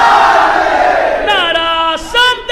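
A large crowd at an Eid-e-Ghadeer religious gathering shouts a slogan in loud unison, and the roar fades as a single amplified voice rises over it to lead the next call.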